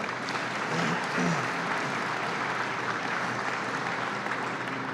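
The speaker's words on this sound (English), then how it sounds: "You can clap for that." An audience at a New York governor's announcement of a plastics factory expansion gives steady, sustained applause for about five seconds, with no break in the clapping.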